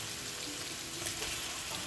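Dried Vietnamese fish hits a pan of softened onions, and a steady, hissing sizzle of frying carries on evenly and fairly quietly, with no voices.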